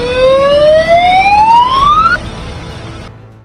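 Air raid warning siren during a high alert, a single rising wail climbing steadily in pitch and then cutting off abruptly, loud and clear over faint background noise.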